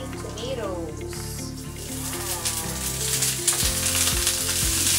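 Garlic and cherry tomatoes sizzle in a frying pan, a steady close hiss of frying that swells slightly toward the end, with a voice and background music running underneath.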